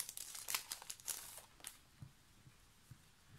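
A package is opened up close, its paper crinkling and tearing in quick bursts that fade into a few soft rustles and taps.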